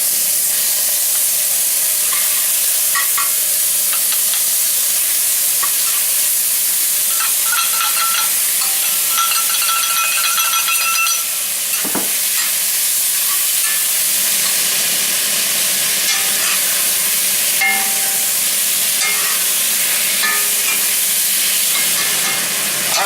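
Pepper steak stir-fries in a very hot wok on a high burner, giving a loud, roaring sizzle and hiss. Metal scrapes and tosses recur throughout, with a brief lull near the middle. No one speaks.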